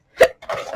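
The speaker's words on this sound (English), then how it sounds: "I'm getting the hiccups" A single sharp hiccup from a woman doing papercraft on a bookmark, a quick close gulping catch followed by a brief soft breathy voiced sound.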